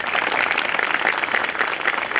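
Dense, steady applause from an audience at a Bar Council of Delhi enrolment meeting, many hands clapping loudly and continuously throughout.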